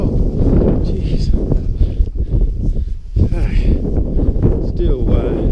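Cold gusts buffet the microphone on a hiking trail, a rough low rumble that rises and falls unevenly while a person talks over it.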